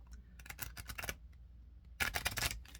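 Quiet crisp flutters and riffling snaps of playing cards being shuffled, in two bursts separated by a brief pause, close up.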